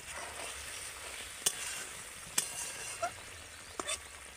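A spoon scrapes now and then through pointed gourd curry in a pan, with sugar and ghee just added, over a soft, steady background hiss; a few sharp clicks stand out.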